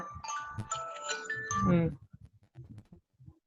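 A phone rings during an online theatre workshop class, a short melodic electronic ringtone heard briefly before a person starts speaking.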